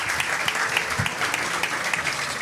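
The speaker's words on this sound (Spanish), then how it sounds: "Un fuerte aplauso para él." An audience in a live paranormal storytelling show breaks into steady, dense applause, a continuous wash of clapping throughout with a few brief voices mixed in.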